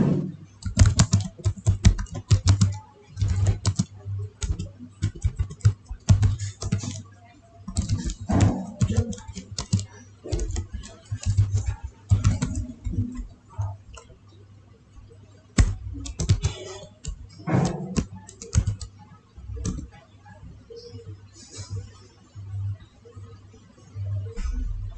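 Keys clatter on a computer keyboard in quick irregular bursts of typing, close and clear, with short pauses between runs over a faint low hum.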